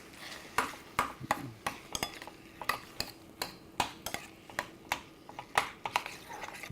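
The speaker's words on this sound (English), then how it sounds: "now I'm going to stir this all up" A spoon clinks rhythmically against the sides of a pot while stirring a mixture, making a steady series of bright metallic taps about twice a second, close and clear.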